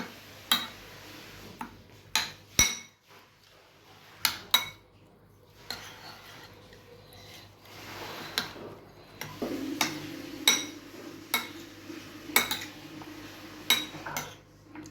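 Egg, potato, onion and salt are mixed together by hand in a bowl, producing repeated sharp clinks and taps at an irregular, steady pace over soft background rustling.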